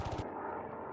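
Machine gun fire from a BF-110 fighter in a flight combat game, a short rapid burst of shots at the very start that quickly gives way to the steady drone of the aircraft's engines.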